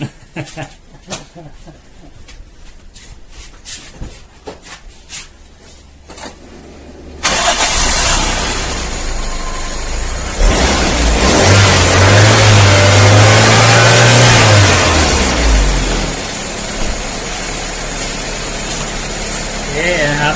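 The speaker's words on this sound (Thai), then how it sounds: "ไปสตาร์ทเครื่องนะครับ ดูว่ามันจะจวดหรือไม่จวดนะครับ" A Toyota 4A-FE car engine being cranked and catching, then settling into a steady idle with a brief rev; before the start there is quieter clatter and someone speaking nearby.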